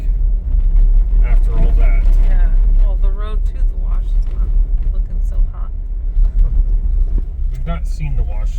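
A vehicle drives along a storm-damaged road washed out like a dry wash, near an off-grid abandoned airport. Its low engine and tyre rumble runs steadily throughout, under people talking.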